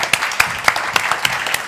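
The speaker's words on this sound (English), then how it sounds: "Give her a warm applause." Audience applause at a 2022 Nobel Peace Prize celebration event, a steady dense clapping from a crowd with a few sharper claps standing out, sustained throughout at moderate loudness.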